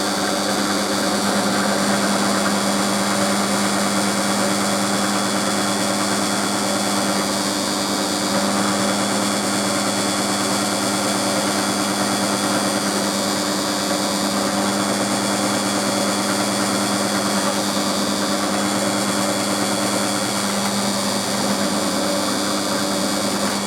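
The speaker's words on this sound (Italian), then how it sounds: "Dovrò stare attento perché l'alluminio impasta parecchio e c'è il rischio di, diciamo, di rompere la punta." Power drill boring into aluminium with a bit on mechanical parts for a rubidium oscillator frequency reference, a steady loud continuous whir with constant motor hum and no pauses throughout.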